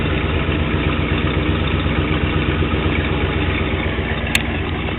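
A 1968 Ford Galaxie 500 idles outdoors with a steady, deep, rumbling exhaust, loud and close, holding an even pulse throughout with no voices.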